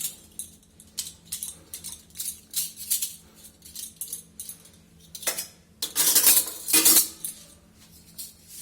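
Freshly washed steel spoons and a saucepan being handled in a kitchen, with bright metallic clinks and jangles at an irregular pace, rising to a dense rattling clatter near the end, close, no talking.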